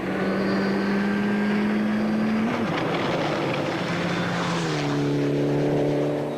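Mitsubishi Lancer N4-class rally car racing at a 2002 rally, its engine note loud and steady throughout, the pitch rising and dropping with gear changes near the midpoint.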